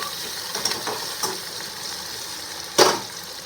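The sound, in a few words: chopped onion and ginger frying in a pan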